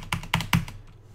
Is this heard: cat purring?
no